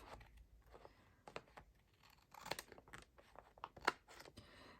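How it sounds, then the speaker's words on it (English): Scissors snipping and trimming paper while preparing journal pages, several quiet irregular cuts and rustles close by in a soft room. "I'm going to take my scissors and trim this"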